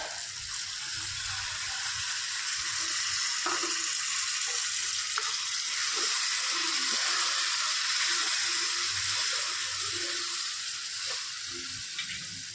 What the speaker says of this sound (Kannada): ಟೊಮೆಟೊ ಕೂಡ ಫ್ರೈ ಆಗಿದೆ ಸೊ ಇವಾಗ ಹುಣಸೆ ಹಣ್ಣು ಬಿಟ್ಬಿಡೋಣ